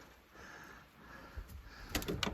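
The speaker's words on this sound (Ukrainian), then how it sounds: "Ось ці двері, вони не закривалися, е, не зачинялися, бачите, да?" A door on a wooden gazebo beside a pond, newly fixed after it would not shut, closes with faint muffled knocks and a quick rattling clatter at the end against a quiet background.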